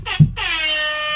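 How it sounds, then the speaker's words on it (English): A hip hop air horn effect sounds once. A short blip is followed by a loud, sustained blare that lasts about a second, alone and close. "Hip hop air horn."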